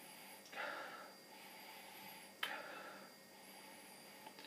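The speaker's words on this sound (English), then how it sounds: "So let's go for a sniff." Two short nasal sniffs over a glass of Shepherd Neame Rudolph's Reward ale, close and quiet, separated by a pause against faint background hiss.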